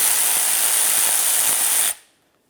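A ratchet working the single 10mm bolt on the front ABS sensor of a 2003-2007 Honda Accord: a loud, steady whirring hiss with faint rapid ticks underneath, cutting off abruptly near the end.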